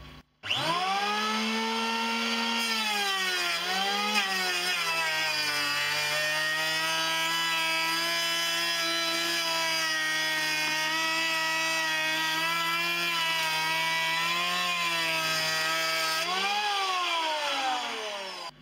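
Parkside electric planer shaving wood at a 2 mm cut depth, a continuous loud motor whine with a rough cutting hiss running almost twenty seconds, pitch dipping slightly as the blade bites, then rising briefly near the end.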